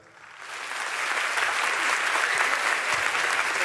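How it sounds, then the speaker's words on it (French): Applause from a Miss Guyane pageant audience at the committee's 20th-anniversary evening swells quickly from quiet and holds as a broad, steady roar of many clapping hands filling the hall. "Ça s'applaudit."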